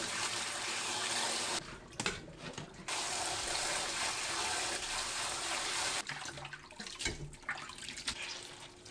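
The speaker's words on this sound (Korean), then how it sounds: "1분 후 바로 찬물에 헹굽니다." Cold tap water runs steadily over blanched bok choy in a kitchen sink, a close, continuous splashing hiss broken by short pauses and clatters as the greens are moved under the stream.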